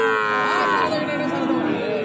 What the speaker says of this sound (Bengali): ষাড় গরু